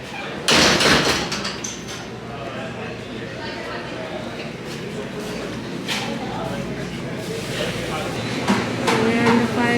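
The entrance door of a Five Guys restaurant on Coronado Island being pushed open, a loud knock and rattle of the door near the start, then a busy room with people talking nearby.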